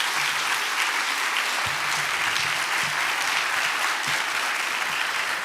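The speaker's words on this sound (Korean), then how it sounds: "우리 김성준 선교사님 나오실 때 우리 사랑의 박수로 환영하시겠습니다." Warm applause from a church congregation at a Sunday service welcomes a missionary to the front, a steady dense clapping that carries on evenly for several seconds without speech.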